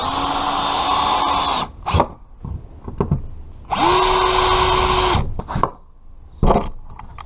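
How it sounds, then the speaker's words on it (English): A power drill drives screws through a metal leg mounting plate into a wooden desk, two long high-pitched whirring runs with short gaps, separated by clunks and handling knocks, loud and close with no talking. "We'll take our plate, line it up, and I'm screwing our screws."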